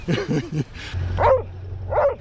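Dog singing along to harmonica during a drive, giving two short, wavering howls after some brief yips, fairly close and clear.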